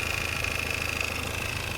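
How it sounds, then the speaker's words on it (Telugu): A 2020 Kia Seltos diesel engine idles steadily with a low, even rumble and faint rhythmic knock, heard from close by with no talking. "మీకు ఇప్పుడు లోపల సౌండ్ ఎట్లా ఉంది మీకు కూడా వినిపిస్తే చూడండి"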